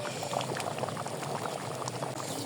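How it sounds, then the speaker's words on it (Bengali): Chana dal with beef bubbles at a rolling boil in a pot, a dense, steady burble of popping bubbles heard up close with no voices. "দেখেন এই যে একদম বলক চলে আসছে মাংস দিয়ে দিচ্ছি"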